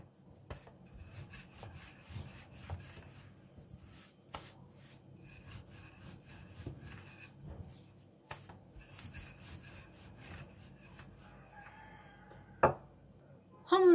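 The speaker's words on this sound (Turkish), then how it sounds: "Servis tabağı büyüklüğünde açıyoruz hamurumuzu." A rolling pin works pastry dough for kete out to the size of a serving plate. Soft, repetitive rubbing strokes come at an uneven rhythm, and a couple of sharper knocks are heard near the end.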